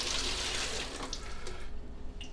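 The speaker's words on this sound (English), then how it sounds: "even though I'm not deglazing the pan, I'm going to rinse this" Tap water runs into a pan being rinsed in a small kitchen, a steady, close splashing rush that thins out toward the end.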